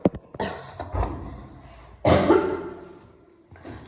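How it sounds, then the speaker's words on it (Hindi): A woman coughs several times in a home kitchen, close and loud, in short harsh bursts with a throaty rasp and gaps between them, no speech. "जब भी मैं ऐसे बात करती हूँ ना मुझे खांसी जरूर आती है"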